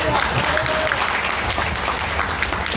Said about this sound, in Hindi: ताली बजा के तो आज आपने खूब यह एहसास करा दिया